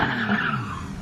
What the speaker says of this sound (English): And let's just enjoy drifting.